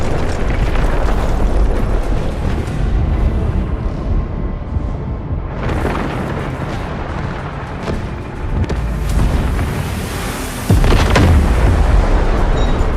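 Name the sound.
artillery barrage explosions in video game Delta Force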